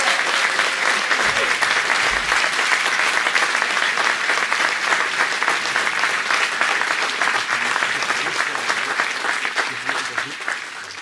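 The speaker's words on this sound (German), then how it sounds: "Bitte erstmal einen Applaus für die." A concert crowd applauds a brass band with loud, continuous clapping that holds steady for a long stretch and only eases slightly at the end.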